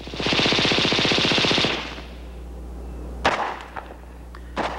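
A Heckler & Koch machine gun on a mount fires a long rapid burst of loud, evenly spaced shots, followed by a few separate thuds and bangs at a distance.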